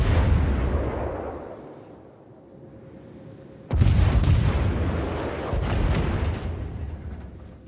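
Warship main guns fire in the World of Warships naval game, with a deep rumbling boom that fades, followed by a sharp, loud salvo and a rolling second blast.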